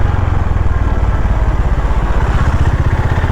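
A Honda H'ness CB350 motorcycle engine runs steadily and loud throughout, a continuous low rumbling thrum with an even pulsing beat, heard close up with no talk.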